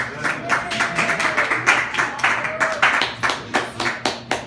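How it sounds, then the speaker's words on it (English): A small bar crowd at a comedy set claps in scattered, uneven bursts, a handful of nearby hands producing distinct rhythmic claps that rise and fall in loose pulses. "Insert applause here."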